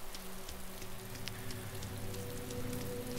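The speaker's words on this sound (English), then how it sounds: "Of course, it's raining right now." Steady rain falls in the video game DayZ, a dense, even hiss of drops spattering on surfaces with scattered sharper taps, continuous and moderately loud throughout, with no voices.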